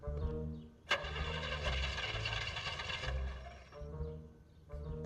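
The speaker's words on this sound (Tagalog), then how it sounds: "Ay, mag-start eh. Hard starting?" A car engine cranking and trying to start, with a battery fault, grinds in a long churning burst after a sharp click, then sputters and falls back before cranking again, close and loud.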